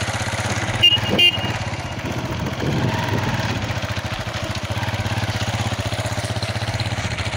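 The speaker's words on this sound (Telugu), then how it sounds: "తమ్ముడు బైక్ రైడింగ్." A motorbike ridden by a younger brother runs steadily throughout, with a low engine hum and a near, continuous throb; a brief horn-like tone cuts in near the start.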